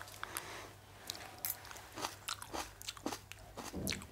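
Crisp crunching bites and chewing of fried Indo-Chinese chili cauliflower (gobhi), several sharp crunches spread over a few seconds, close to the microphone, with no talk.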